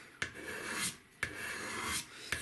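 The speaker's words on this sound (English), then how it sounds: "I'm going to do most of my final shaping with my scrapers" Steel scrapers shaping the wooden stock of a snaphaunce musketoon: three evenly spaced, close scraping strokes, each opening with a sharp bite and followed by a steady raspy shaving sound.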